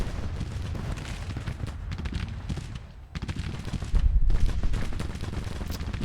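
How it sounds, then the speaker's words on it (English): Cannon and musket volleys from a Civil War battle in Grand Tactician: The Civil War, a dense, continuous rumble of overlapping shots with heavier booms swelling near the end. "For the moment, the artillery is firing."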